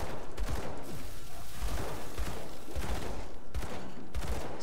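Rapid gunfire in the action role-playing game Grim Dawn, with dense repeated shots in a busy, continuous barrage and sharper bursts at intervals.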